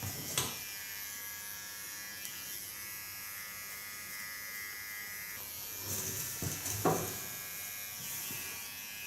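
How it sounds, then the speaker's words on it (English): A small electric hair clipper buzzes steadily up close while trimming a neckline during a haircut, with a few faint clicks and handling noises scattered through the hum. "This I do with my smallest clipper"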